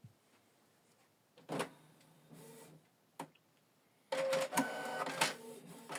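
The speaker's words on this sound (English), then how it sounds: "The document is printing." A Canon Pixma TS3450 printer prints a document with intermittent mechanical clicks and whirs, then a louder, sustained motorized feed and printing run, close by.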